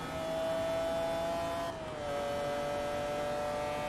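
The McLaren F1 engine in Forza Motorsport 2 drones at high revs, a steady, loud, tonal whine that briefly dips as if shifting gear, then settles into a slightly lower sustained note, heard alone.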